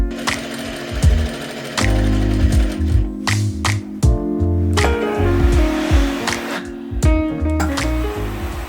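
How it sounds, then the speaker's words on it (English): A home sewing machine runs a decorative stitch on garment fabric, its motor whirring in steady bursts with brief pauses and stops between runs, close and fairly loud with no talking. "I'm gonna see if I can kind of replicate the look on my sewing machine with a decorative stitch and some gathering"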